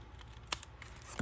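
Scissors making a single quick close snip through paper while shaping a gift box, a short sharp cut against quiet room tone.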